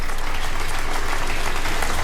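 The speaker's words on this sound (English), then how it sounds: "And the big cheer for Liz Truss" A crowd cheers and claps loudly and continuously for Liz Truss as she is announced winner over Rishi Sunak and walks to the lectern, a dense unbroken wash of applause.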